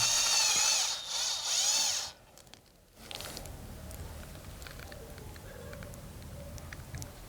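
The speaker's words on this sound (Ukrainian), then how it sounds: "Свердлимо отвір в нижній частині плавця" A high-pitched drill whines briefly while drilling a hole in a brass fishing-lure blade, stops, then gives way to softer scraping and handling noises.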